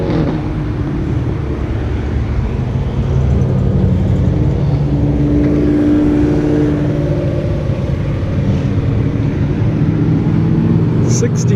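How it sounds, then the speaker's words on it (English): A 1967 Mercury convertible rolls past at the Woodward Dream Cruise in Pleasant Ridge, its engine a steady low rumble amid outdoor crowd noise, with people talking nearby. "'67 Mercury convertible."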